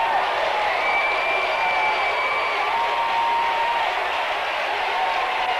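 A basketball crowd at a 1995 Mansfield Senior at Mansfield Madison high school game roars after a couple of dunks, a steady dense wash of cheering and applause filling the gym for several seconds, with a faint whistle-like tone drifting above.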